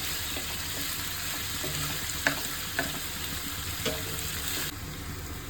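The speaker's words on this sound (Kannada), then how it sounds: "ಪುದೀನ ಸೊಪ್ಪೆಲ್ಲ ಚೆನ್ನಾಗಿ ಫ್ರೈ ಆಗಿದೆ" Mint leaves fry in a pan with onions for a green chicken dish, making a steady dense sizzle with a few faint clinks of stirring. No one speaks.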